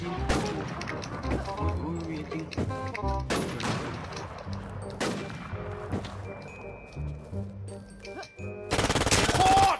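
Gunfire in the shooter game WarZ while the player jump-shoots, rapid bursts of loud close shots in clusters, and a final dense burst at the end; the shots dominate throughout, with some speech-like sound mixed in.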